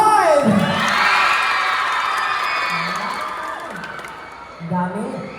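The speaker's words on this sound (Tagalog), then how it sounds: "Magpalakpakan naman na ng hiyawan dito na side!" A live outdoor comedy show crowd in Siaton, Negros Oriental cheers, whoops and shouts in a sustained, loud roar that swells then eases, with a host's voice cutting in near the start and end.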